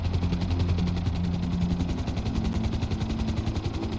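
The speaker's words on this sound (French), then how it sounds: "Regardez mon hélicoptère quand il est tout petit face au hélicoptère." A helicopter from the video game Grand Theft Auto V drones steadily with a rapid rotor chop, loud and constant throughout with no voices.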